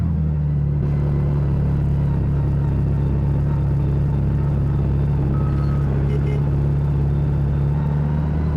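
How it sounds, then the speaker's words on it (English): Heavy construction equipment works along an off-road trail, a loud, steady engine drone filling the scene with a constant low hum and faint intermittent tonal beeps. "we have come across some construction equipment working on the trails"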